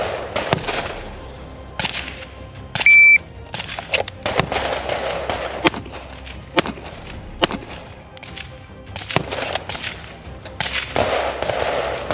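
Springfield TRP full-rail pistol fired on an outdoor range during an FBI qualification drill, with loud sharp cracks spread across the clip and several other shots echoing nearby.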